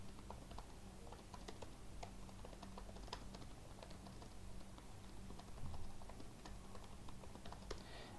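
Steady typing on a computer keyboard while entering device details, a continuous patter of light, fairly quiet key taps with no voices.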